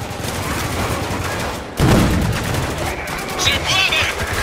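Gunfire in the military shooter Spec Ops: The Line, dense crackling rifle bursts and a sharp loud volley near the middle, with shouting voices mixed into the combat.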